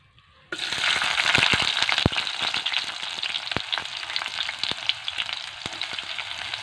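Onions frying in a pan for a Wayanad-style crab roast with sea crab, a loud steady sizzle that bursts in abruptly after a quiet start and keeps crackling densely with sharp pops throughout, no voices.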